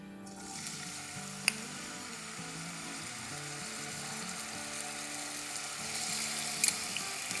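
Small pieces cut from a medium potato fry in a pan with a steady, faint sizzle and occasional light clinks of stirring.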